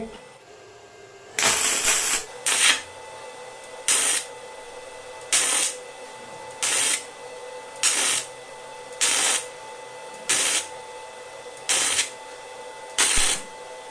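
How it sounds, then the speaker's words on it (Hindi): A gasless MIG welding machine welding 4 mm thick iron in about nine short regular bursts, each a loud crackling buzz of around a second separated by brief pauses, close by with a faint background hum and no talking. "अब मैंने यहां पर 4 mm मोटा लोहा लिया है, इसको हम वेल्ड करेंगे"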